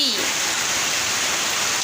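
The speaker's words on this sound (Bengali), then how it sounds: "এই যে দেখেন এদিক দিয়ে মুসল ধারায় বৃষ্টি পড়তেছে এত বৃষ্টি" Heavy monsoon rain pouring down outside a kitchen where eggs are being cooked, a loud, dense, unbroken hiss of downpour filling the whole scene close by.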